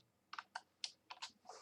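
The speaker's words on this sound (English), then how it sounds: "I could put some specific points by typing in some coordinates here" Several keys are struck on a computer keyboard while coordinates are typed in, about six separate crisp clicks in an uneven rhythm, close and quiet with no voices.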